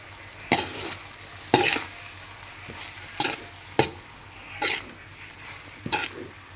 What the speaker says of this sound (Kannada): ಆಮೇಲೆ ನೆನೆಸಿಟ್ಟಿರುವಂತಹ ಮಂಡಕ್ಕಿನ ಸೇರಿಸ್ಕೊಂಡು ಇವಾಗ ಮಿಕ್ಸ್ ಮಾಡಿ.